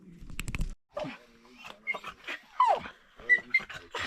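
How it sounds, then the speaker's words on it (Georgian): Restless hunting dogs at dawn on the opening day of quail season let out scattered short whines and yelps, close and intermittent, with quiet gaps between them. "ძაღლებიც ვეღარ ისვენებენ"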